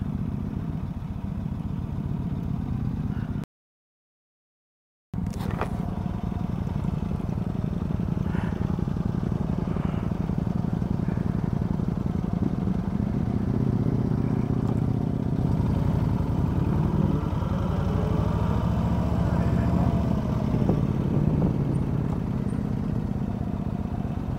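Motorcycles rumble steadily and loudly nearby, heard from a rider on a 2013 Yamaha Stryker, with engine and wind noise continuous throughout apart from a brief dropout.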